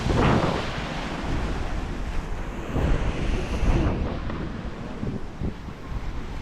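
Sea waves wash onto Wong Amat beach near Pattaya, with surf rumbling and surging in uneven swells. Strong wind buffets the microphone throughout, and no voices are heard.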